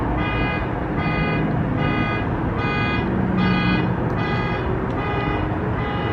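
A car alarm blares continuously nearby, a loud pulsing electronic tone repeating in steady cycles with faint road noise underneath.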